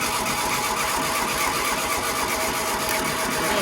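A barn-find Volkswagen Beetle engine being cranked over with the starter, a dense, continuous churning whir, loud and close, steady throughout without catching.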